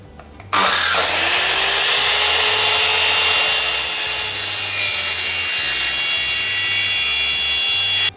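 A wooden strip is cut at 45 degrees for a drywall shadow ceiling, producing a loud, steady, whirring cutting noise that starts abruptly and runs unbroken for about seven seconds before stopping, with a low rhythmic hum underneath.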